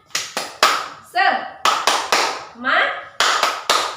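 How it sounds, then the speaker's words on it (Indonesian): A primary school class does the tepuk semangat clapping rhythm in three sets of three sharp claps, with voices chanting briefly between the sets. "Tepuk semangat."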